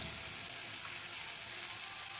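Potatoes sautéing with spices in a pan for a vegetarian chhanar dalna, giving a steady, soft, close hiss of frying that continues without a break.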